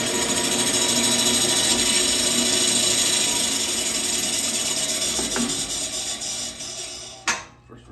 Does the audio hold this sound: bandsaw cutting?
yes